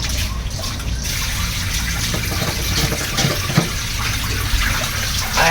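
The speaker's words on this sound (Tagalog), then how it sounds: "Maghugas tayo ng plato" Dishes being washed under a running kitchen tap: a loud, steady rush of water, close by, with faint clinks of plates and utensils and no talking.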